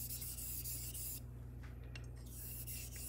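A knife edge is honed with abrasive slurry on a whetstone, giving a steady, close, low scraping rub that runs continuously for about three seconds without any talk.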